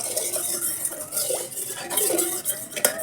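Curd is stirred into black nightshade berries with a spoon in a bowl, giving a continuous close scraping and clinking with small irregular knocks throughout.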